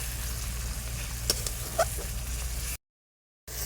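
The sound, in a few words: spice paste (masala) frying in a pan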